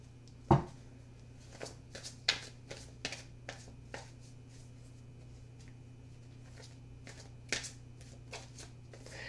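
A deck of tarot cards is handled and shuffled close by, heard as a sharp snap near the start followed by sparse, soft riffles and taps over a quiet low hum.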